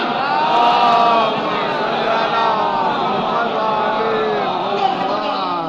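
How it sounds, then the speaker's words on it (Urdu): A congregation at a majlis recites salawat together in unison, a loud massed chorus of voices, steady and continuous, with overlapping intoned phrases rising and falling throughout. "صلوات پڑھیں نا محمد وعلی محمد"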